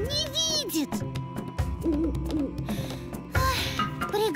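Eagle owl hooting in a cartoon, a few clear hoots over a music bed with shrill whistling bird-like calls around them.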